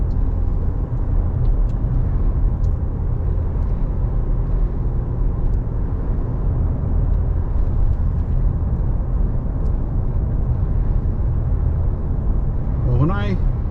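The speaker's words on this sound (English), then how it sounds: "there's a fair amount of traffic up there" Road traffic near a four-lane highway by Bangor, Maine rolls by as a steady low rumble of passing cars, heard from inside a moving vehicle while someone talks over it.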